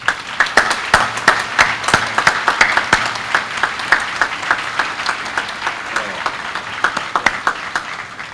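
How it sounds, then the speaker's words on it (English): Audience applause at a military change of command ceremony: a steady, dense round of clapping from a crowd, sustained evenly throughout with sharp individual claps standing out near and far. "please join me in a huge round of applause for the McDonald's"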